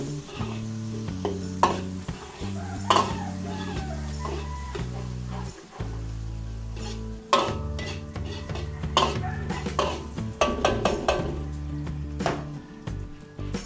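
Garlic and onions sautéing in a pan, with steady sizzling, stirring and clinks of a utensil against the cookware, under a background of music.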